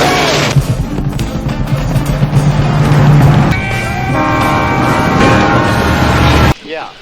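A train rolls past on a railway in a film scene, heavy rumbling and clattering with sustained horn blasts sounding loud and close before cutting off abruptly.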